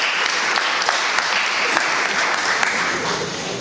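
A congress audience claps in a steady, dense ovation that stays loud and even throughout, with a faint voice beneath the applause.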